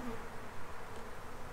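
Honey bees buzz at an opened hive during an early-spring hive check, a dense, continuous drone of many wings heard close and alone.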